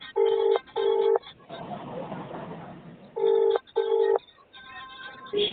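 An outgoing phone call rings unanswered: two paired ring bursts, a pause filled with muffled room noise, then another paired ring and a brief final tone, loud and close.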